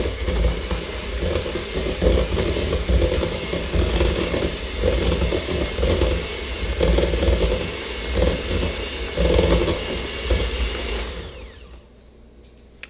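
A stand or hand mixer creams butter and sugar for lemon sugar cookies, giving a steady, loud mechanical whir with rattling beaters that runs for about eleven seconds, then cuts off into near silence.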